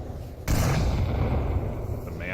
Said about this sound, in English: G-Men tossing a defensive frag.